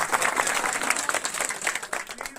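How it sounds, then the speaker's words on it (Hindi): Audience applause for Kuber bhai at a public address and meeting in India, a brief burst of dense, even clapping from a moderate crowd, with no voice over it. "मैं एक बार ताली बजा दे कुबेर भाई के लिए"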